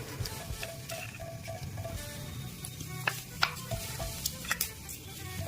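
Vegetables sizzle and fry in hot oil in a home kitchen, a steady close crackle with a few sharper spatters and light stirring clicks toward the end, no voices.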